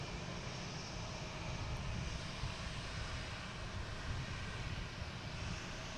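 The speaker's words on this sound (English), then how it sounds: "next coming in, we have American Airlines from Chicago" American Airlines flight from Chicago arriving at Boston Logan, its aircraft engines giving a steady, broad, low rumbling roar that holds evenly throughout with no voices.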